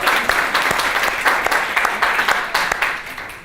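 An audience at a design lecture held at a school applauds with dense, steady clapping that stays loud and even for about three and a half seconds, with no talk over it.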